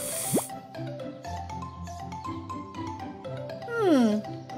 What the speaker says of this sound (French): il a éclaté une bulle et une autre et une autre